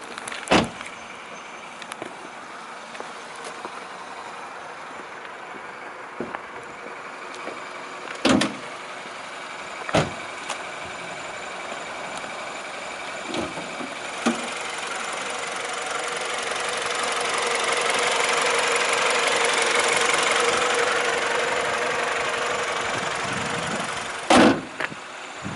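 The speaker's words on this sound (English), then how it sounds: "So let's keep the engine running and I'll pop the bonnet" A Mini Countryman 1.6 engine idles steadily while sharp, isolated clunks and latch clicks ring out every few seconds as the bonnet is released and lifted, with a hissing wash building in the middle before a final loud clack.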